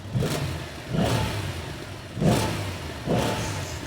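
A 2025 Yamaha MT-07 motorcycle engine revs up repeatedly in four short bursts, rising and falling between throttle blips, close by and fairly loud.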